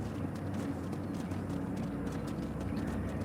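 Horse hooves clip-clop in a steady trotting rhythm on a ranch in the video game Red Dead Redemption, fairly close and alone, with no talk over them.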